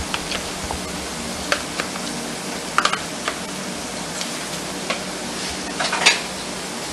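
Butter sizzling with saltfish in a pan, a soft steady crackle with scattered spatula taps and clinks, close by, no speech.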